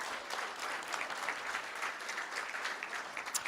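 Steady round of applause from an audience at a school board meeting, dense and even clapping filling the whole stretch with no talk over it.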